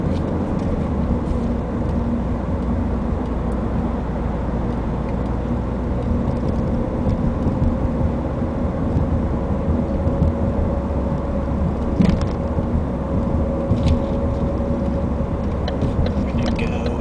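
A 2012 Ford Focus with a manual gearbox drives steadily, its engine hum and road rumble continuous throughout with only slight changes as gears are shifted.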